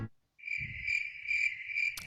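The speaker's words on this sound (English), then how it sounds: "Cricket." A cricket chirps in a steady, high-pitched continuous trill with faint pulsing, fairly close and alone, ending with a short sharp click.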